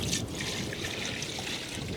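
Water pours steadily into a cooking pot for pongal in a village kitchen, a close, continuous splashing trickle with no speech.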